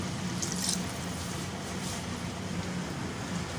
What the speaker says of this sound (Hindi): तो अब इसके अंदर हम ऐड करेंगे तकरीबन 4 कप पानी